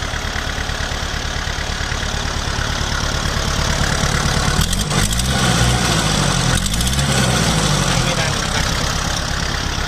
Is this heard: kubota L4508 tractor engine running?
yes